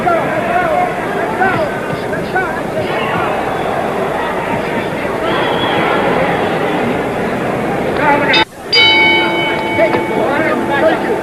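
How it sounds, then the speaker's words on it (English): A boxing ring bell rings for round 9 of a Muhammad Ali vs Ken Norton fight at the San Diego Sports Arena. One loud metallic clang with a long ringing tail cuts through steady crowd hubbub late in the clip. "The bell for round 9."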